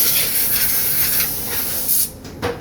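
A spray gun hisses as red lacquer is applied to a double-bound Telecaster guitar body for a three-tone sunburst, a loud close steady spray that breaks off near the end, followed by a short final burst.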